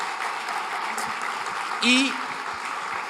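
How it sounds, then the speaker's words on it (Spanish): A live church congregation gathered for a Sunday service claps steadily in the background, a soft continuous patter, with a brief voice rising over it near the middle. "Reciban en este momento el aplauso de la gente que está aquí reunida en vivo"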